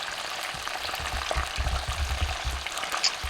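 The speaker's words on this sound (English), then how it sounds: "It is sizzling so beautifully" Fish sizzling in hot oil, a steady crackling hiss with scattered pops, close and continuous with no talking.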